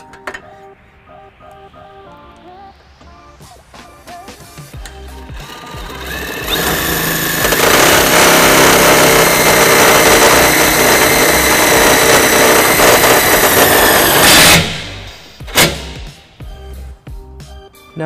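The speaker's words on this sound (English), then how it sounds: "We have our power tool with a 13mm socket that we will be using to do that." A power tool with a 13mm socket drives self-tapping screws during trailer wiring installation on a 2007 Nissan Titan, ramping up to a loud, steady whirring run for several seconds before cutting off abruptly, with a few short bursts after.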